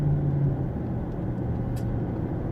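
A Range Rover Vogue TDV8 heard from inside while driving, with a steady low engine and road rumble that stays even for the whole short stretch, with no talking.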